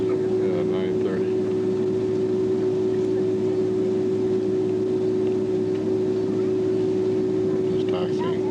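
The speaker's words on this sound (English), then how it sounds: "We're just taxiing out to find a runway to take off." Airliner taxiing to the runway at Sydney Airport in 2001, heard from inside the cabin: a steady, droning engine hum with a constant whine, with faint voices in the background.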